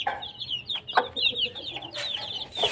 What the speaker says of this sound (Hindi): ये देखें मुर्गी और चूज़ों को मैंने फ़िलहाल इस केज में शिफ्ट किया है।